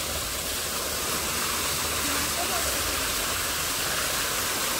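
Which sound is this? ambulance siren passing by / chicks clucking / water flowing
water flowing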